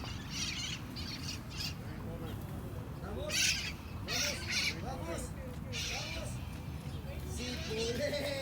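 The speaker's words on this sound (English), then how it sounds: "You guys hear the parrots in the background? Our afternoon parrot visits in Long Beach." Parrots squawk in the background during an afternoon in Long Beach, scattered harsh calls rising over steady outdoor ambience and nearby talk throughout.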